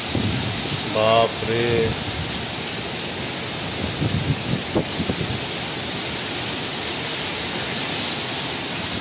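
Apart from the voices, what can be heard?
strong wind and rain during cyclonic storm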